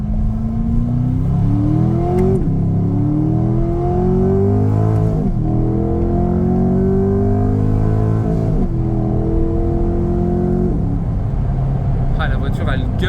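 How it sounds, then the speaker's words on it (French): Chevrolet Corvette C8 with an eight-speed dual-clutch automatic roars as it accelerates, the engine note climbing through several gears with sharp drops at each shift, loud and steady from inside the car, with a voice speaking briefly over it. "La voiture elle gueule quand même"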